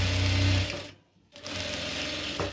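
A sewing machine stitches a handkerchief in a tailoring lesson: a loud mechanical whir that stops for a moment and then starts again, heard alone.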